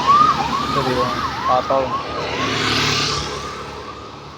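An ambulance siren wails in quick rising and falling sweeps beside a highway, loud at first and then fading under a steady rush of passing traffic, with a brief spoken word.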